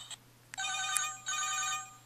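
A cell phone ringtone for an incoming call, bright repeated electronic rings in two bursts with a short break, close and clear with no talk.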